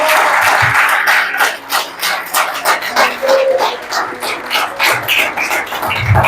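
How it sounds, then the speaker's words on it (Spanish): Dense applause from a church congregation, steady and fairly loud throughout, with bursts of cheering voices rising over the clapping. "Un aplauso fuerte al Señor por eso."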